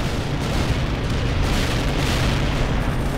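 HEAT tank shells striking Abrams armor in the World in Conflict video game, a continuous dense rumble of booming impacts and blasts with no break or talk.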